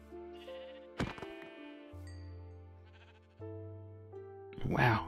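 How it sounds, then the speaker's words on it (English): A white sheep bleats loudly in a hot outdoor setting, several wavering calls overlapping a steady tonal background, with a final harsher bleat at the end. "This white sheep."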